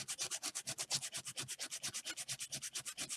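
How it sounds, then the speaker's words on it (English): Short wood pieces being sanded by hand with heavy-grit sandpaper, a quick steady back-and-forth rasp of about eight strokes per second, close and fairly quiet, with no talking. "with the heavier grit sandpaper, that really doesn't take that long to do"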